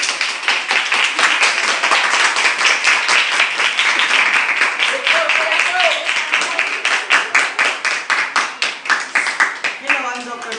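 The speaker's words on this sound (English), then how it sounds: "Give them a round of applause." An audience claps enthusiastically for two doctors at a stage event, a loud, dense round of applause lasting about ten seconds and thinning into separate claps toward the end.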